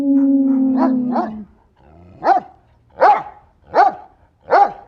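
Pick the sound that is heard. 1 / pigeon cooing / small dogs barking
small dogs barking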